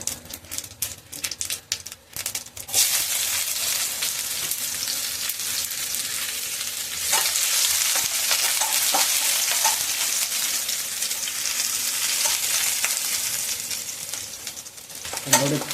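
Onion and chilli frying in hot oil for tomato chutney, with a continuous close sizzle and crackle that starts after some clattering stirring and runs steadily to the end.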